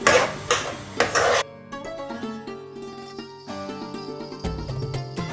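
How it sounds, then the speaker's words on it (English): A strong spoon scrapes and clatters as jackfruit halwa is stirred in a pan for about a second and a half, then quieter, intermittent stirring continues under steady background music. "Now I'll increase my heat and I will just give this a little stir."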